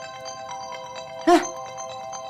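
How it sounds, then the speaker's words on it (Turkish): A mobile phone ringtone sounds in a home kitchen, a short burst of bright tonal electronic chiming that swells for a moment over a steady background hum. "Oğlum telefonun çalıyor"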